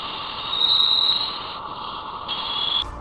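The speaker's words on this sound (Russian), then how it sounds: "Вот звук межзвездной среды." Sonified interstellar medium: a steady high whine and hiss with faint shifting tones, swelling slightly, continuous over three seconds with a brief break near the end.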